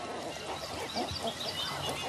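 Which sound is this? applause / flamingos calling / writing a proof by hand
flamingos calling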